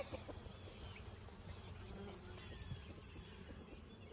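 Honey bees buzz softly around a Flowhive honey super, a faint continuous insect hum with scattered low knocks, quiet and steady and without any voice.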